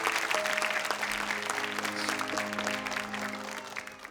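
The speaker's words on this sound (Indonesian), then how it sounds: "Boleh tepuk tangan untuk kehadiran ibunya Febri dari Bogor." A studio audience at the Hafiz Indonesia television show applauds to welcome Febri's mother from Bogor, with moderately loud clapping and sustained background music tones that taper off toward the end.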